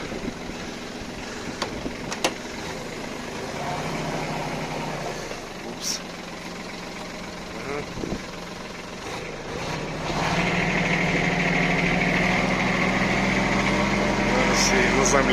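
Small Kubota Aste A15 tractor with a front hitch, its engine running steadily at close range under scattered talk, with clunks from the hitch before the engine rises to a louder, higher, steady run near the end.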